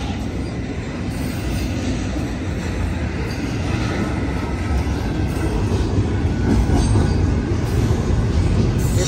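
A Union Pacific intermodal freight train with a Norfolk Southern locomotive rolls past the 66th Ave grade crossing, a loud continuous rumble of wheels and cars with rhythmic clatter and faint squeal, close by and steady throughout.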